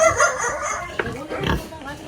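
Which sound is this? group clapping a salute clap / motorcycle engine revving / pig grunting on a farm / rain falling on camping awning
pig grunting on a farm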